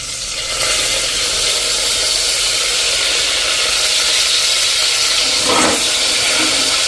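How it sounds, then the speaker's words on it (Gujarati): Pigeon peas and green peas sizzle loudly in hot oil, a dense, steady frying hiss with a short louder burst near the end. "તો પેલા આપણે તો આ જે તુવેર અને વટાણા છે ને એને તેલમાં નાખી દેશું."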